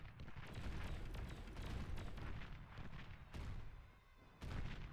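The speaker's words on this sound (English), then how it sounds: "my flak cannon is doing a wonderful job over there" Flak cannon firing in a real-time strategy video game, repeated booming bursts over a dense rumble of battle, with sharp cracks landing several times, including two strong shots near the end.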